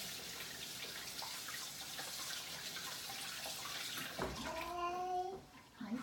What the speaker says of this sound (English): I'm gonna rinse my hands real quick.